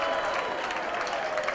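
A wrestling arena crowd applauds and cheers, a dense, steady wash of clapping and voices heard briefly at moderate distance.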